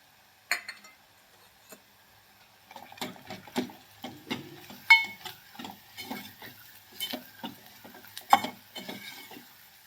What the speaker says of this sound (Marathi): गॅस मीडियम करून हा मसाला आपल्याला भाजून घ्यायचा आहे.